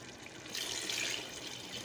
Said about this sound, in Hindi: शामिल करने लगी हूँ पानी।